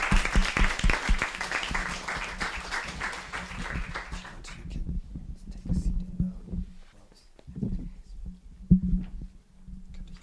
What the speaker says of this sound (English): once again, a round of applause for our panelists